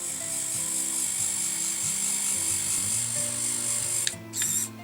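An Action-brand 3D pen runs its small motor with a steady whirring buzz, then stops abruptly near the end, followed by a short burst of clicking.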